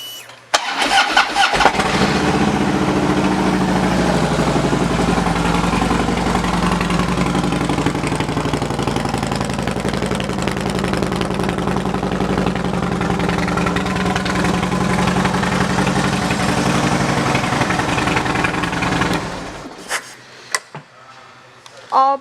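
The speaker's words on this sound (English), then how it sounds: "let's listen to the exhaust." A 2008 Harley-Davidson Road Glide with 45,220 miles fires up and settles into a loud, steady rumbling idle through its exhaust, running continuously for about twenty seconds before cutting off.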